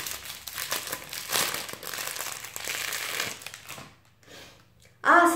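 Plastic packaging from a spa advent calendar crinkles and crumples in close, busy bursts as it is opened, dying down to near quiet before a final sharp sound.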